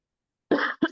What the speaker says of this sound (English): And the cough maybe.